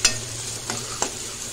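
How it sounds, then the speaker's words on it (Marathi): Chopped onion and curry leaves fry in two ladles of hot oil in a kadhai on a gas stove, giving a steady close sizzle broken by three sharp spoon scrapes as the pan is stirred. "कांदा तेलात चांगला परतून घेऊया।"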